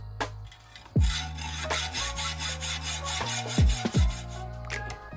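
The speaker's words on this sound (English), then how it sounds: "I'm just going to cut the steel bar to length." Steel bar being cut to length for a letterpress handle, a close rasping scrape in uneven strokes with a few sharper knocks and clunks between them.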